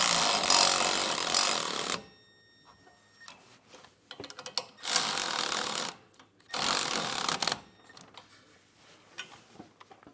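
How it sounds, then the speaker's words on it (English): Nuts on a leaf spring suspension kit for a 2020 Grand Design being tightened with a 19 mm socket and wrench, heard as three long bursts of fast, loud ratcheting clicks separated by quieter gaps with faint metal handling. "take a 19 millimeter socket and wrench and tighten these down"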